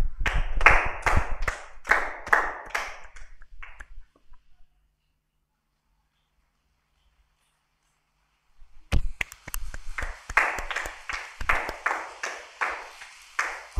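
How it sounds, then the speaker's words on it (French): A church congregation at a Friday night prayer vigil claps loudly in sharp, rhythmic bursts, falls silent for several seconds, then resumes with another round of brisk, forceful clapping. "Donc, applaudissons très fort."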